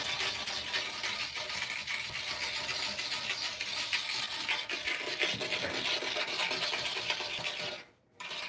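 Steady, close scraping and rasping during house cleaning, continuous rough scratching strokes that pause briefly near the end.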